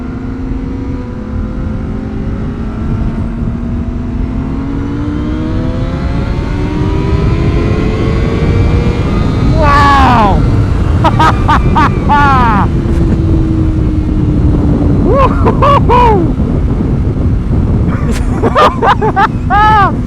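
Motorcycle with a quick shifter accelerating hard through the gears, the engine rising in pitch with quick clutchless shift breaks, loud and close under wind noise, with people talking over it.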